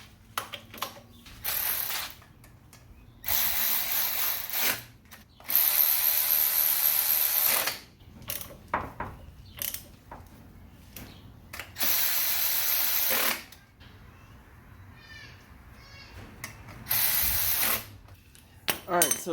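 Bolts being run back in on a Honda Civic torque converter during automatic transmission installation, with bursts of ratcheting and power-tool whirring alternating with quiet pauses, close and fairly loud.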